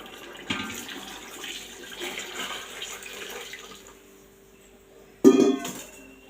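Water pours into a pot of rice with a splashing, gurgling stream that fades, followed by a sharp clank and a short renewed splash near the end.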